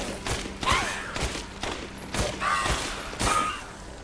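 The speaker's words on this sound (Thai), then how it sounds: "ยิงแบบไม่นับนัด" Rapid gunfire in Resident Evil Village, repeated sharp shots fired in quick bursts with mechanical clicks and metallic ringing between them, moderately loud with no talk.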